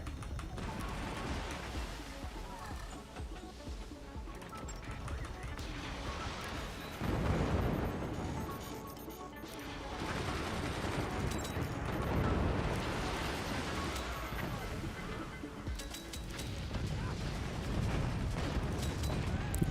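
Artillery fire in the video game Forts, a real-time strategy battle of built fortresses: repeated heavy booms and blasts that roll into a continuous loud barrage with mechanical clatter, and bursts that swell at intervals.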